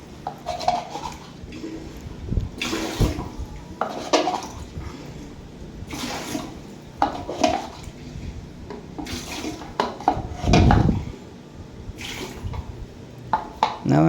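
Water being scooped out of a toilet bowl with a small plastic tub, giving repeated splashy, sloshing scoops at close range with hollow knocks of the tub against porcelain, with no talking.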